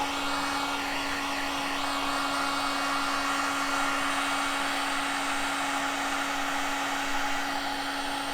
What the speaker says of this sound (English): It's a wee plastic welding gun